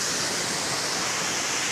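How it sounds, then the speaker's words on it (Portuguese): The waterfall at Cachoeira do Pântano in Descalvado gives a continuous, loud, broadband roar of falling water, steady throughout with no other sounds standing out. "E lá é a cachoeira, ó."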